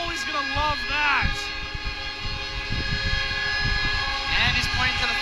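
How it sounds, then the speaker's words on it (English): Fans at a USPHL junior hockey playoff game blow air horns in the arena, a loud, sustained blaring drone that holds steady through the whole stretch while a voice talks over it. "Man, those air horns are loud,"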